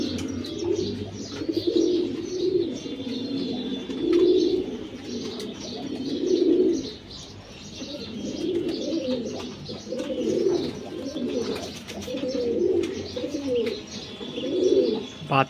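Several pigeons around their coop coo continuously in repeated rolling, throaty phrases, close and fairly loud, with faint chirps and a few light background noises.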